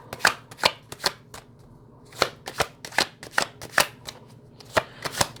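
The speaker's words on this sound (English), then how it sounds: "Let's pull some cards on these and let's see what is the message" Tarot cards are shuffled and pulled in close, crisp bursts of riffling and slapping, irregular soft snaps and flutters with quiet gaps between them, no voices present.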